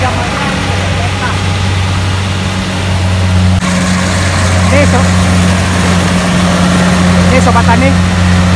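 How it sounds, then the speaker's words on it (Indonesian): Combine harvester harvesting rice in a paddy field, a steady loud engine drone with a low, constant hum that shifts slightly partway through, while a person talks over it. "ini alat mesin combine yang digunakan untuk panen padi"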